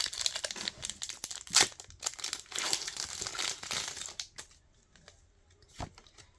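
Foil booster packs of Pokémon Prismatic Evolutions trading cards being torn open, with close crinkling and ripping bursts that fade into quieter handling and a few soft taps.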